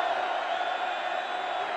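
Football stadium crowd roars after a touchdown at a 1985 college game between Alabama and LSU, a broad, steady wall of cheering and whoops that stays loud and continuous with no pauses.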